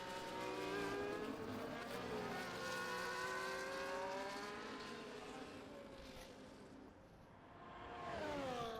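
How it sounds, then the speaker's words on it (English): A McLaren race car in a racing video game roars past, its engine note rising and falling in pitch as it approaches and passes, then another engine swells in near the end. "We'll see the McLaren fly by"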